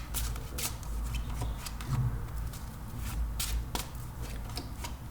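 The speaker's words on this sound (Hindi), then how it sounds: "Love area के लिए 3 कार्ड्स लेंगे हम।" Tarot cards are shuffled and drawn by hand for a reading, a close, continuous papery riffling and flicking with repeated sharp snaps.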